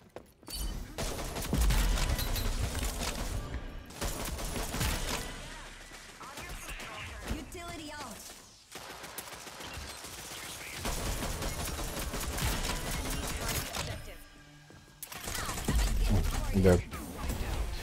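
Bursts of gunfire in a shooter video game, rapid fusillades and impacts packed densely across the clip, with short lulls between volleys and voices talking underneath.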